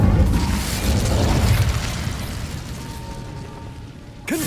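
Incendio fire spell from Hogwarts Legacy going off as a loud booming blast, a dense burst that fades over several seconds before a brief sharp sound at the end.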